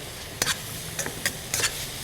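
Several quick scraping clatters of a utensil stirring chicken in a frying pan, irregularly spaced over a low background sizzle.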